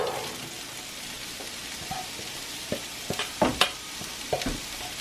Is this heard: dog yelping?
no